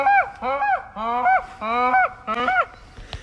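A man imitates a goose call with his voice, five loud, close honking calls in quick succession, each a nasal two-part honk, followed by a brief breathy pause.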